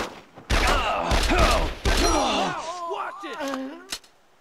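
Gunfire crackles in the PSP shooter Brothers in Arms D-Day, several short bursts breaking through urgent shouted voices that dominate the clip.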